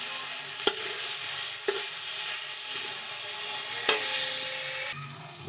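Dried Bhola fish pieces being turned while frying in a pan, a steady close sizzle of oil punctuated by three or four sharp spatula clacks against the metal, with no talking.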